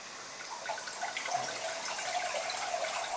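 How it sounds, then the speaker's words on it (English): Butler-academy students pour a drink in a practiced vintage-style serve, giving a soft, continuous liquid trickle with faint splashes at moderate distance. "they're practicing the exact vintage pour"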